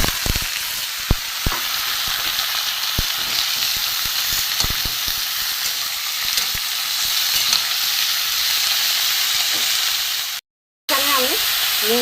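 Chopped banana stem, eggplant, potato and papaya hit a hot pan and fry with a loud, steady sizzle, a few sharp crackles and stirring knocks early on, then a brief break before the sizzle resumes.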